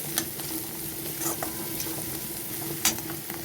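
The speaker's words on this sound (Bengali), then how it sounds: "এরপর দিয়ে দিচ্ছি গ্রেট করে রাখা আদা, বন্ধুরা, রসুনটাকেও ভেজে নেব খুব ভালো করে।" Grated ginger and garlic frying in a pan for a peanut and eggplant dish, a soft, steady sizzle broken by a few sharp clicks and scrapes as they are stirred.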